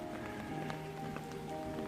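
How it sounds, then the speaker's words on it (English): Steady rain falling on a tarp pitched in the woods, a dense continuous patter at low volume with no voices. "it is starting to get heavier, this rain"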